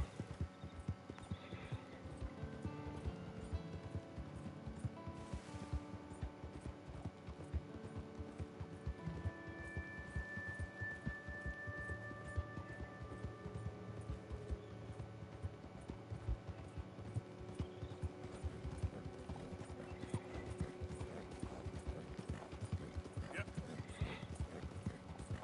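Horse hooves clip-clopping in Red Dead Redemption, a steady rhythmic patter of hoofbeats running continuously under game music and talking voices, with a brief whinny heard along the way.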